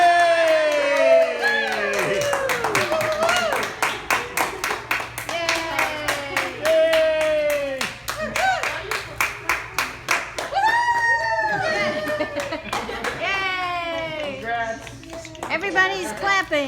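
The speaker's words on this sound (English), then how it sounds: "Everybody's clapping." Wedding guests clap after the couple's kiss at the end of the ceremony, many sharp, scattered claps running throughout, mixed with cheering and excited voices.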